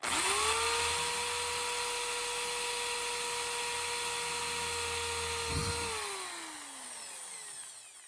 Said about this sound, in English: it's just a question now of drilling 2 holes very carefully